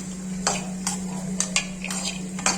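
Cashews stirred while roasting in a pan, a handful of separate scrapes and clinks of a utensil against the metal over a steady low hum, with no talking.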